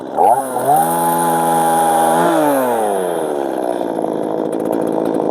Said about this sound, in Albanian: Do t'i heqim me motosharr këto të treja.